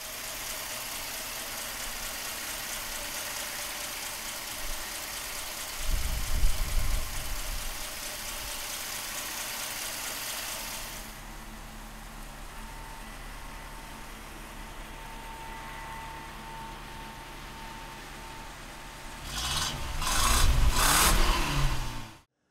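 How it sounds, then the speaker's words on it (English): A 1948 Buick Roadmaster convertible's straight-eight engine cranks, catches and settles into a steady, smooth idle, with a brief rev-like surge toward the end, heard up close with no talking. "let's fire the straight eight up"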